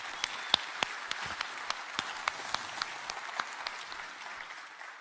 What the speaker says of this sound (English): So give a round of applause to the SecT people.